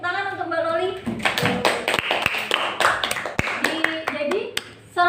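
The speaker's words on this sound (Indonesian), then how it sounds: "Tepuk tangan untuk Mbak Loli." A small group in a classroom claps for a student during a maths lesson, a short burst of close, uneven hand claps with voices talking over and around it.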